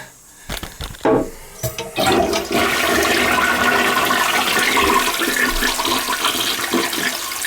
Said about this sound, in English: Make sure flush is good.